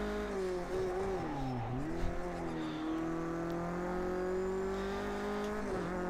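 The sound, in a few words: video game car engine revs dropping, tyres locking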